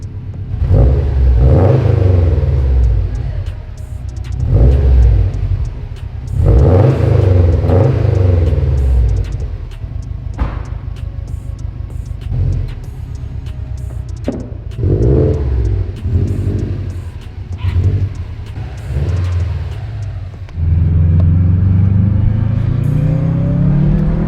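A 2019 Subaru WRX STI with a loud aftermarket exhaust revs repeatedly, deep rumbling surges rising and falling close by, with a steady idle between revs.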